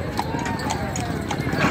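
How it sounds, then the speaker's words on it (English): Clydesdale horses clip-clop past at a downtown Christmas parade, their hooves making regular sharp taps under steady crowd noise and people talking. "And we got some horses. Clydesdales, I think."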